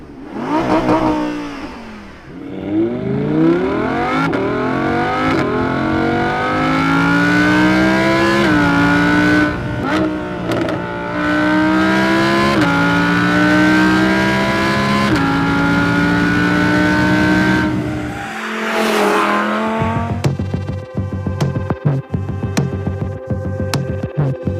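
An Audi R8 V10 Plus with its 5.2-litre, 610-horsepower naturally aspirated V10 revs loudly and pulls hard through rising gears. It drops off briefly near the end before a rougher, throbbing burst, and no one talks over it.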